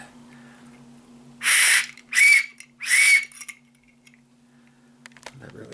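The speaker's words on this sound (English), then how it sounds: "They get spooked by the whistle." Three loud, shrill whistle blasts in quick succession, each lasting about half a second, then quiet with a faint background hum.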